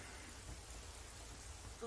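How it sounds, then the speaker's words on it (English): Rain falls steadily in an animated scene, a soft, even hiss of drops with a low rumble underneath, faint and continuous throughout. "Get out of the rain, bro."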